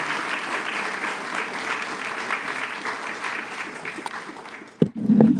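Audience applause welcoming Dr. Hatem Bazian to a campus talk on Palestine and Islamophobia, a steady dense clapping that fills the room for several seconds before fading, followed by a brief voice.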